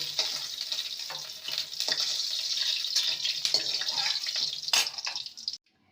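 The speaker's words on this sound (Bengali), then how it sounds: "বাকি ভেন্ডিগুলো ঠিক একইভাবে ভেজে নেব" Okra pieces fry in hot oil in a kadai, a bright, steady sizzle with occasional crackles and stirring scrapes that cuts off abruptly at the end.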